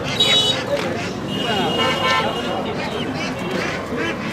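Quacking from small domestic ducklings offered for sale at a busy weekly village duck-and-chicken market in Dhaka district, Bangladesh, heard amid crowd chatter, traffic noise and a passing horn.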